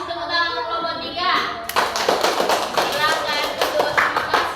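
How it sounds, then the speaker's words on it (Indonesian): A class applauds group 3 in a classroom, a burst of clapping from many children that starts after a voice and continues as a dense, close patter with some taps and thumps. "Iya, kasih tepuk tangan untuk kelompok 3."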